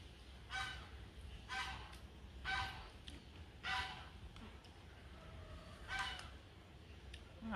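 Geese honk in a repeated series of loud, nasal calls at roughly one-second intervals, set outdoors near a kitchen where a clay-pot rice meal is being cooked, with faint background talk.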